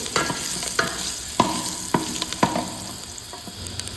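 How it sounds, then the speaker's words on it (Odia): Pieces of chicken frying in hot oil, Bihari-style, with a continuous close sizzle broken by several sharp stirring knocks of a spoon against the pan. "ଫାଷ୍ଟ ତେଲ ପୁରା ଗରମ କରିଦେବେ, ତାପରେ ଚିକେନ୍ଟା ଟିକେ ଫ୍ରାଏ କରିବେ"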